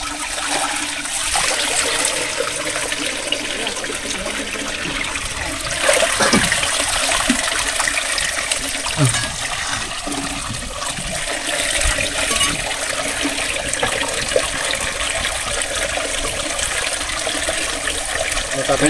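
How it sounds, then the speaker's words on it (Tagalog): Water gushing out of a fishpond through an opened barrier on a farm, a continuous rushing, splashing flow that holds steady throughout, close and fairly loud, with faint surges and no clear speech. "Dagdagin lang yung isang panara, yung harang para nakalabas yung tubig."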